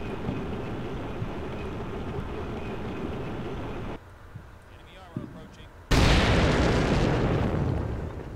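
Anti-tank guided missiles firing at tanks in combat, a heavy rumbling roar that cuts to a quieter stretch with faint thuds, then a sudden loud blast-like surge that holds and slowly fades.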